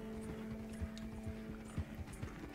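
Horse hooves clip-clopping in the video game Red Dead Online, a steady rhythmic run of soft thuds over a constant low hum and game ambience.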